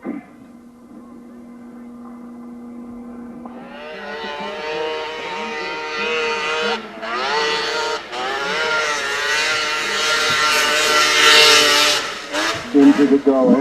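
A racing snowmobile from the Renegade Sports Race Team climbs a hill at the Jackson Hole World Championship Snowmobile Hillclimb. Its engine starts as a low hum, then surges into a loud, rising whine that climbs higher with brief dips, and voices are heard at times.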